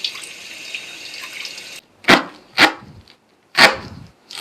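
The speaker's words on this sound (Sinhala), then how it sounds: "මේ විදිහට ඇල් වතුරට අල්ලලා චුට්ටක් අපි මේක හේදෙන්න ආරිමු." Cold tap water runs in a steady splashing stream over egg noodles in a sink, then cuts off, followed by a few sharp, close splashes and drips.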